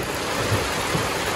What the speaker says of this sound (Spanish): Lluvia y lluvia y lluvia